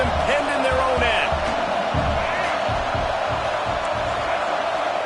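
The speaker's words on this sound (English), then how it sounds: "The roar of the crowd trying to fuel this defense to keep them pinned in their own end." A football stadium crowd roars to push the defense, a steady loud wash of crowd noise with rhythmic low thumps and whoops beneath it. No voices speak clearly within it.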